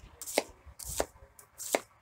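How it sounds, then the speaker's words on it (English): A CCK cleaver slices through food on a cutting board in three crisp, evenly spaced chops, close and clear with no talking. "Slice it through nicely, just like my other CCK cleaver."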